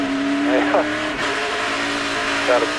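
A NASCAR Nextel Cup car at Watkins Glen in 2007 exits turn 10, its engine a loud, steady drone that climbs in pitch through upshifts, heard close and under race commentary.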